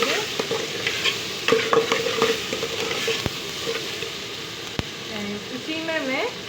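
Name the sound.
stirring tomatoes into frying tinda masala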